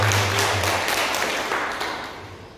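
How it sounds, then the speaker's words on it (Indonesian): Congregation clapping during a Sunday worship service at a GPdI church, a dense burst of applause that fades over a couple of seconds, with a low musical hum beneath. "Berikan tepuk tangan dulu ya Pak."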